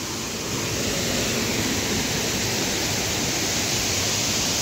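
A small waterfall at Palasdari near Karjat pours with a continuous, even rush of falling water, close and fairly loud, with no voices over it.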